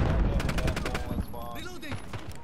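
Gunfire in Call of Duty: Modern Warfare, a quick burst of rapid automatic shots up close, then quieter game sounds with a faint, distant shot or two as it fades.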